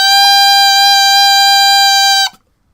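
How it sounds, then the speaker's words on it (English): A tenor saxophone mouthpiece with reed blown alone, giving one steady, loud, buzzy straight tone that holds for a little over two seconds and then stops abruptly. "if I blow into that mouthpiece and just create a standard tone on a saxophone mouthpiece,"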